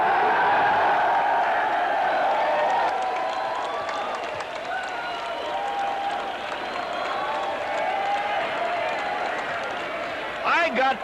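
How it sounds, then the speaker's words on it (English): A West Point class of 1986 graduation-week audience turns and claps for their parents, sustained crowd applause with scattered whoops over a long stretch, fading a little midway before a few sharp claps near the end. "Turn back and clap for them."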